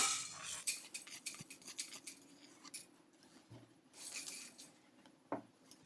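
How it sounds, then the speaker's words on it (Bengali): Dry red chillies are stirred in a pan for kulo pickle with a utensil, giving a run of close scraping and clinking strokes, busier at the start and again near the end, with no talk. "তো দেখো শুকনো লঙ্কাটা একটু নেড়ে নেব।"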